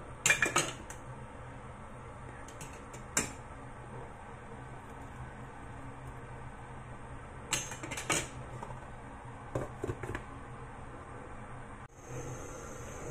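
A utensil stirs salt and chicken powder into a pot of soup, giving sparse metallic clinks and scrapes against the pot in short bursts, with quiet stretches of low background hum between them and no talk.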